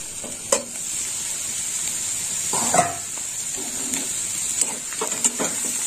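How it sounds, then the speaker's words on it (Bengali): Shrimp fry in a pan for a Bengali vegetable chorchori, giving a steady, bright sizzle throughout with a few soft scraping stirs and clicks of a utensil against the pan. "চিংড়িটা অনেক ভাজা হয়ে গেছে"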